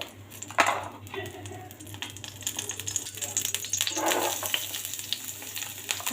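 Beans and vegetables fry in a little oil in a frying pan, a close crackling sizzle mixed with sharp clicks and clatter of a utensil against the pan, building in busyness as it goes.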